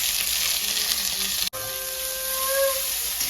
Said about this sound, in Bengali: মা এখন পেঁয়াজ ভাজছে।